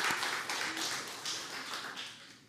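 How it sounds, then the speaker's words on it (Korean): A church congregation claps together during a Sunday service, a dense run of hand claps at moderate distance that holds steady for a couple of seconds before gradually tapering off. "박수 한번 주세요."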